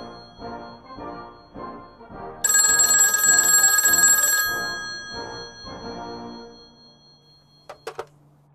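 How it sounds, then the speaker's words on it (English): An old-style telephone bell rings loudly in one continuous burst of about two seconds in a movie scene, between muffled rhythmic background music, followed later by a couple of faint clicks. "Pulls up a cell phone and makes a phone call."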